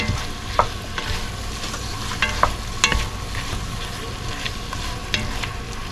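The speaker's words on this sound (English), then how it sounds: "we're going to cook down this tomato paste until we can really smell it" Tomato paste cooking down in a pot, a continuous close sizzle and bubbling crackle with scattered pops and light stirring scrapes, no talking.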